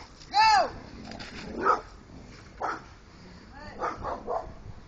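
A dog barks several times outdoors in a garden, a loud close bark followed by quieter, spaced barks and yips, with faint background noise between them.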